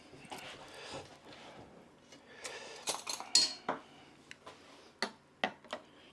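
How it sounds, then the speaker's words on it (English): A gin and tonic sorbet mix being stirred in a container: a spoon gives a few faint scrapes and clinks, then sharper taps toward the end, with no talk. "Give it a bit of a stir,"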